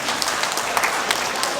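An audience at an alumni awards event breaks into applause, a dense wash of many hands clapping at once, loud and close, holding steady throughout the short burst.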